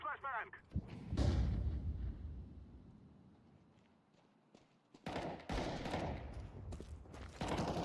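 In a Counter-Strike 2 match, a heavy flashbang pop is followed by loud bursts of close gunfire and rattling shots, with a quieter lull between the volleys.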